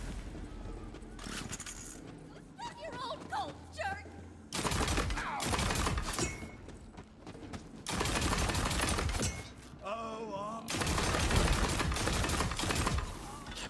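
A video game weapon rapidly firing magic missiles, heard as dense bursts of crackling shots that come in loud waves separated by quieter gaps, with someone talking throughout.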